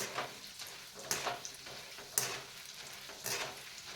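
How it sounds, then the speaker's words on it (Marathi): Lentils (dal) frying in hot ghee over a medium flame, a steady close sizzle with bursts of crackle and stirring scrapes recurring every second or so, with no voices. "आता ही डाळ आपल्याला छान लाल रंगावर तळून घ्यायची आहे"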